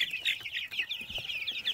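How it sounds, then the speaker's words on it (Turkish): A flock of about 39 chickens and roosters clucking busily at feeding time in a highland farm yard, a dense rhythmic chatter of close clucks with no talk. "Bunlar hep horoz herhalde ya."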